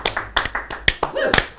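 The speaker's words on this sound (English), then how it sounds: "Golf clap." A few quiet, polite hand claps come in an uneven, spaced-out rhythm, a soft golf clap from one or two people, close to the mic, with no speech over it.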